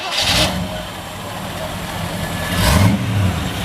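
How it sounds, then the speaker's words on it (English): A 1933 Ford five-window coupe with a small-block 350 V8 and dual exhaust starts up and settles into a steady, smooth idle, with a brief rev swelling near the end, heard up close. "Nice, smooth running, small block."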